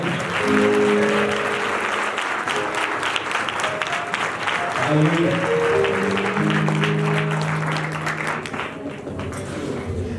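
A congregation at a deliverance church service claps and cheers loudly, sustained applause filling the room, with voices singing and calling out over it, including a spoken exclamation.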